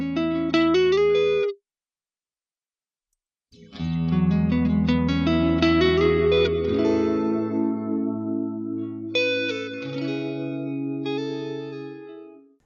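Electric guitar chords ring out drenched in a long, spacious reverb that mimics a large empty hall, with a short silent gap before sustained notes and bright picked lines return, decaying into a lush wash.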